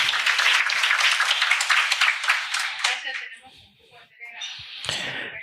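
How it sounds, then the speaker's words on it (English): Audience applause following a conference keynote, brisk and fairly loud for about three seconds, then thinning into scattered claps and fading, with a few stray knocks and shuffles near the end. "Round of applause for Pilar."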